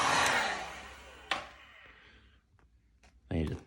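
A heat gun blows steadily while warming vinyl wrap on the sharp-angled front end of a car near the headlight, a loud broad hiss that fades over a couple of seconds, with a few clicks and brief handling noises after.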